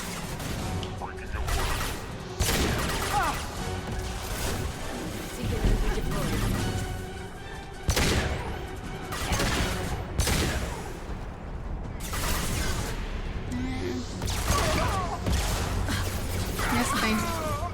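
Gunfire rattles through a Mass Effect 2 firefight: repeated sharp bursts and booming impacts across a dense, loud battle, with voices speaking faintly among the shots.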